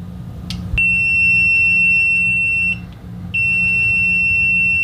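A GVDA GD166B budget AC/DC clamp meter sounds its continuity beeper at maximum output: a loud, steady high-pitched tone that runs about two seconds, breaks off briefly, then sounds again, close and with no talk over it.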